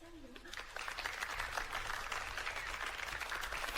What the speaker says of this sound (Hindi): सब ताली बजाएं और हौसला बढ़ाएं